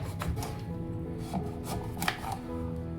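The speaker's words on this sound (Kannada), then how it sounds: "ಸಣ್ಣ ಸಣ್ಣ ಪೀಸಾಗಿ ಕಟ್ ಮಾಡ್ಕೊಳ್ಳೋಣ" A knife cuts pumpkin into small pieces on a board, giving a series of soft, irregular chopping taps over a low background hum, close and moderately quiet.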